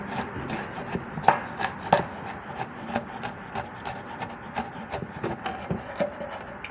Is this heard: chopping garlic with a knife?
yes